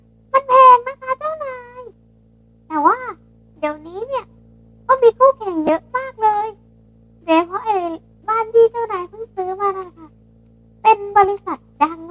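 A cat character in the Roblox Brookhaven game meows repeatedly in short rising and falling cries, spaced in bursts across the stretch, loud and close over a faint steady hum.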